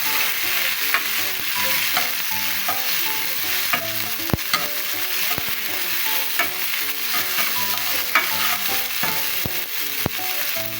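Tomato, onion and garlic fry in a pan with a constant close sizzle, broken by repeated scraping and clinking strokes of a stirring utensil, with no voices.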